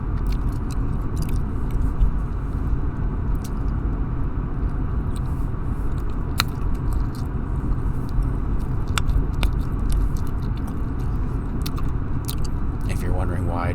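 Gum chewing close to the mic inside a moving 2007 Dodge Caravan, with soft wet smacks and clicks over a constant low road and engine rumble.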